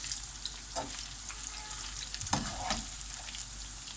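Meatballs sizzle in a frying pan under a steady bright crackle while metal tongs turn them, adding a few soft clicks and scrapes near the pan.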